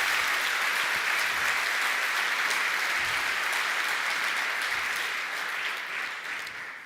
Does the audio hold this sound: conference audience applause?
yes